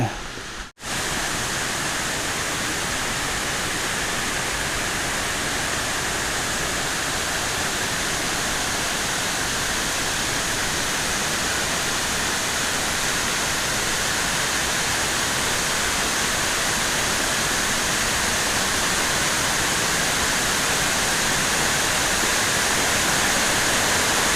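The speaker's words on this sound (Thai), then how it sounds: "เดี๋ยวเราเดินไปที่น้ำตกชั้นที่สี่นะครับ" Water pours continuously down the Huai Mae Khamin waterfall tiers after storm damage, a dense, loud, unbroken roar filling the air from start to finish.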